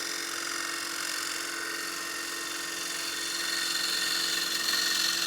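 A wood lathe makes a finishing pass with a freshly sharpened tool on a wooden platter: a steady, close whirring hum with bright cutting hiss holds evenly for several seconds, with no talking.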